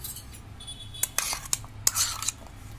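Chopped tomato topping for masala papad is tossed in a bowl, giving soft, scattered clinks and scrapes of a utensil against the dish, several quick taps in an irregular rhythm, close and fairly quiet.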